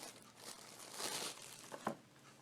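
Plastic bag around a Shishamo fishing reel crinkles up close as it is handled, a short soft rustle that swells and ends in a couple of sharper crackles.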